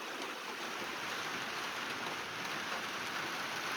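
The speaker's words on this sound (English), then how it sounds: "I'm just going to let you listen to the rain for a minute here." Rain falls on an unheated greenhouse in the high desert, a soft, even, continuous patter with no voices over it.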